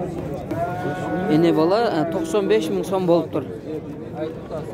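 Cattle lowing at an outdoor livestock market, several long rising-and-falling moos from nearby animals overlapping with steady talk from people close by.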